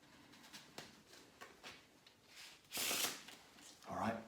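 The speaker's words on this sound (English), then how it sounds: "if I give those a shuffle." A pack of playing cards being shuffled by a magician, heard as a few soft flicks followed by two louder bursts of riffling cards, fairly quiet and close.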